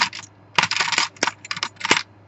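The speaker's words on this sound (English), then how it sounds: "These cute little keys, little fat keys." Small, chunky metal keys from a craft haul are handled close up, giving bright jingling clinks and scrapes in several quick clusters.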